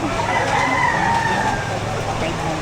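A rooster crows at a chicken sale in Batangas, a drawn-out call standing out over a busy, noisy background of other fowl and ambient chatter.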